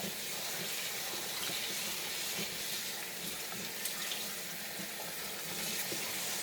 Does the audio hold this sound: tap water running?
yes